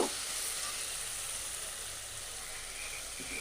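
Sesame and cashew paste fries in a pan for a cauliflower roast, giving a soft, steady hiss and sizzle that stays faint and even throughout.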